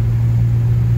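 Slant Six car engine at road speed, a steady low drone with a strong constant hum, the torque converter locking up and dropping the revs slightly, heard alone and close.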